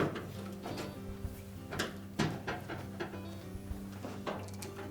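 A Whirlpool dryer electronic control board slides and clicks into place in the console, making short plastic scrapes and knocks over a low steady hum, close and without talk.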